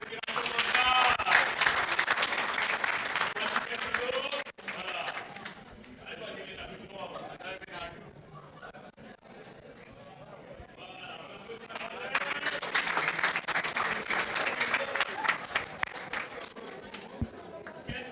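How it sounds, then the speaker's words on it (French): An audience at a youth-centre public-speaking workshop breaks into loud, dense applause that fades under a speaker's voice and then swells again into sustained clapping. "on applaudit la respiration ventrale"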